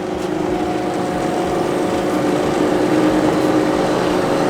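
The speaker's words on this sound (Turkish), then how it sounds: "Şu anda zımparalarımız çalışıyor ve işlemi izle abi." Two sanding machines with a hydraulic system grind both sides of a katana blade at once, giving a loud, steady mechanical drone with a faint whine that runs without a break.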